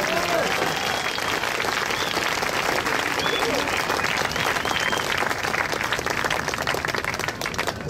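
Warm, sustained applause from a concert audience for a Navy alumni band, dense steady clapping filling the room for the full stretch with scattered voices mixed in.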